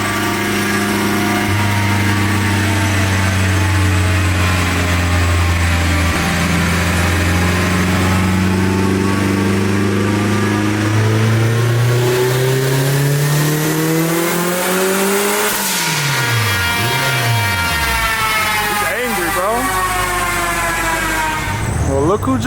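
A turbocharged K24-swapped MR2 running on E fuel screams through a dyno pull, engine note climbing steadily in pitch under load before backing off and revving again, loud and close throughout.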